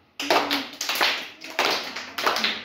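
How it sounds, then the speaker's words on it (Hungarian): Children in a Hungarian primary school classroom clap their hands in short counted bursts, several sharp claps per group with brief pauses between, close and fairly loud, with no talking over them. "Mindig csak annyit tapsolj, ahányan mutatok"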